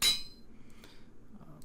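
A hammer striking while crafting a saw blade from plates in Minecraft GregTech New Horizons, a single bright metallic clink at the start that rings briefly and fades into quiet.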